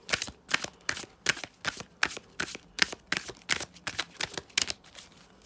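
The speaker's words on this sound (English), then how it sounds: "These shuffle so beautifully." Oracle cards are shuffled in a quick, regular rhythm, about a dozen crisp riffling bursts in a row, close up and clear with no talking.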